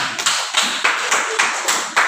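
Children in an Islamic lesson classroom clap their hands together in unison, a run of about eight sharp, evenly spaced claps, close and bright, with no voices over them.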